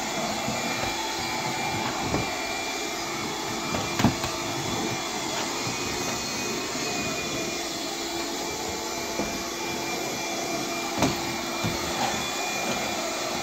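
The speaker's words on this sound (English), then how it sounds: "I'm gonna try to just push the chairs around with the vacuum so it's less movement" A vacuum cleaner drones steadily and loudly throughout as it is pushed around chairs beneath a table indoors, with a few brief knocks and bumps against furniture breaking the constant roar.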